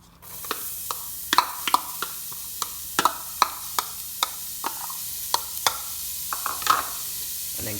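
Chopped onion goes into a hot flour-and-oil base for enchilada sauce and sizzles steadily while a whisk taps and clicks against the pan in a quick, uneven rhythm, close and clear without voices.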